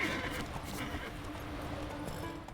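Horses in The Witcher 3, clopping hooves and a whinny over a steady game soundscape, fairly close and continuous, with a voice briefly talking alongside.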